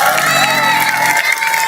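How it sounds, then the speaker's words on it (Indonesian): Loud applause and cheering burst from a village crowd at a community talk, with shouts, whoops and children's voices over dense clapping, sustained and close throughout. "Tepuk tangan dong."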